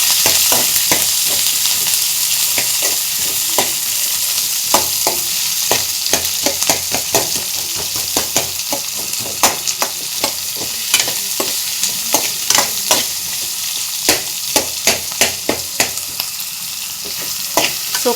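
Mustard seeds, onion and chili fry in hot oil as a tempering, a steady close sizzle broken by many sharp crackles and pops that grow denser toward the end, with no talking.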